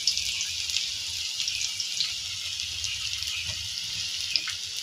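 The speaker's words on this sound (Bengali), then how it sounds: "এই তো তেলটা গরম হওয়ার পর পেঁয়াজ দিয়ে দিচ্ছি।" Onions dropped into hot oil for a prawn curry sizzle in a steady, bright frying hiss with occasional pops, close and continuous, with no talking.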